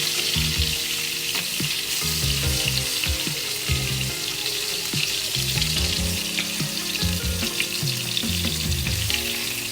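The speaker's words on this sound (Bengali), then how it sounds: "বেগুনগুলো হালকা লালচে ফ্রাই করবো, বেশি ফ্রাই করবো না।" Eggplant pieces fry in oil for a steady, close sizzle with bubbling crackle throughout, along with low background tones and no talking.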